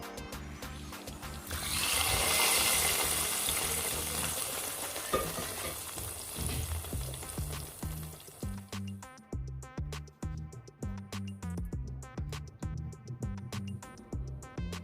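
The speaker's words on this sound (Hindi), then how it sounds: "अब मैं इसको सर्विंग बाउल में शिफ्ट करूँगी और इसके ऊपर गार्लिक का तड़का लगाऊंगी" Hot oil sizzles loudly as garlic is dropped in for a tempering, the hiss swelling then settling into a crackling, bubbling fry; no talking.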